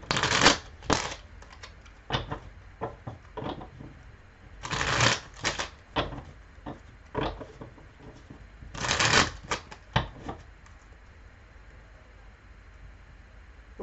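Tarot cards are shuffled by hand in repeated quick riffling bursts, close and fairly loud, with soft pauses between them and no speech over the shuffling.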